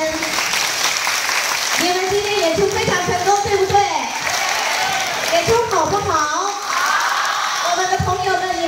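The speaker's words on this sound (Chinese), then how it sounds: "那我们也给自己一个掌声" An audience at an event applauds itself: steady crowd clapping throughout, with voices and speech layered over it.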